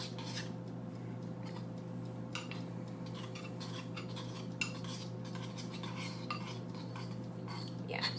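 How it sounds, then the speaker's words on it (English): A utensil scrapes and clinks in a bowl while stirring thick natural almond butter into a peanut dipping sauce, giving steady soft scraping with light taps over a constant background hum, no speech. "We're gonna mix it up. Try to loosen up that almond butter."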